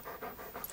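A dog panting quickly in short rhythmic breaths, faint and close in a quiet room, with no talk over it.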